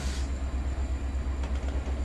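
A long, heavy American freight train rolls along in the train simulator Railworks, giving a steady low rumble with a regular, faint rhythmic pulse from the wheels, moderately loud and without talk.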